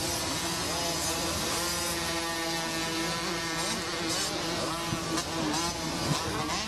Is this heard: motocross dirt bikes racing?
yes